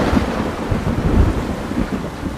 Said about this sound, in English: Oh yeah, still raining.